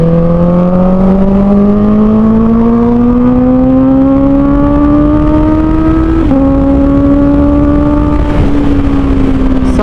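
A Honda CBR 650R motorcycle with an Akrapovic full exhaust system and the dB killer removed revs loud and close, its engine note climbing steadily in a long pull, dipping briefly at a shift, then rising again.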